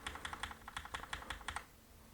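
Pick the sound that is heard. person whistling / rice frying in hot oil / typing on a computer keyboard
typing on a computer keyboard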